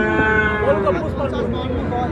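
A Friesian bull calf at a cattle market gives a loud, close moo lasting about a second, with crowd chatter and voices around it.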